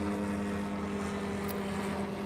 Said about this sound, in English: a helicopter's going over